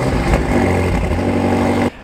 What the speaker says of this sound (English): there is a button to actually adjust how the exhaust sounds